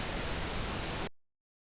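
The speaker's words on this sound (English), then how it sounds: "we will be adding pink noise on it. So if I check this, it'll be loud and annoying" A pink noise test signal generated in REAPER plays as a loud, steady hiss across the whole range, then cuts off abruptly to silence.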